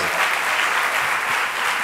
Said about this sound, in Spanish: vamos a pedir un fuerte aplauso a Francesc Pedró por su importante aporte a este encuentro internacional